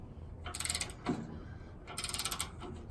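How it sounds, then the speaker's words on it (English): Torque wrench on a Woodland Mills HM130 sawmill, set to 25 pounds, gives two short bursts of quick ratcheting clicks about a second apart, each a rapid rattling run with no talking. "You'll hear it click when it gets to 25 pounds."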